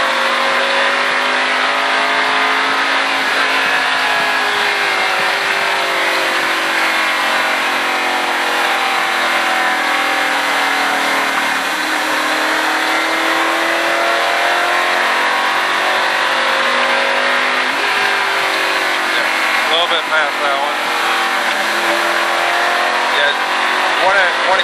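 A race car at a Richard Petty driving experience runs on a track, its engine droning loud and steady inside the cockpit with shifts in pitch as it accelerates, while people talk over it.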